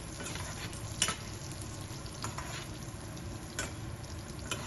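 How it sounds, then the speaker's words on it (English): Onions gently cooking in ghee with spices for lamb biryani, sizzling and frying steadily up close, with occasional louder stirring scrapes and clicks in the pan. "Just gently cook the onions, no rush."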